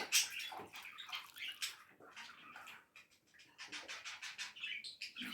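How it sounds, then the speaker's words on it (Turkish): Whipped cream powder whisked into two and a half glasses of milk, a fast continuous rattling whisk that swells and dips with brief pauses, close and fairly quiet with no talking. "iki buçuk bardak sütüne çırpı vereceğim"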